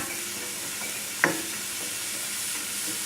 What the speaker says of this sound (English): just keep stirring it, mixing it for about 5 minutes